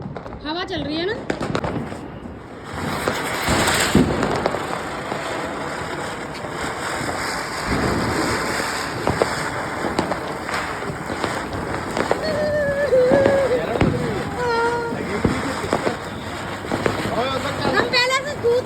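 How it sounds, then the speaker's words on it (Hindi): Diwali firecrackers and fireworks go off in a residential street, with repeated crackling bursts, sharp pops and whistling rockets over a steady hiss. Voices talk throughout. "उसके बाद फिर हम स्टार्ट हो गए पटाखे चलाने के लिए।"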